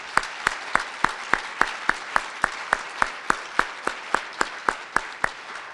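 Audience at a community forum on opiate abuse clapping for the panel, a steady, fairly loud run of about twenty evenly spaced claps across the whole stretch, sounding like one nearby pair of hands over a soft room murmur.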